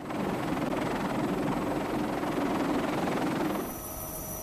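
A CH-53K heavy-lift military helicopter makes a loud, steady, close rotor and engine roar that holds for several seconds, then drops off sharply near the end.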